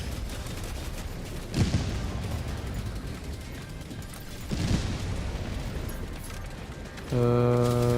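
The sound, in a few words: heavy machine gun fire in the video game Helldivers II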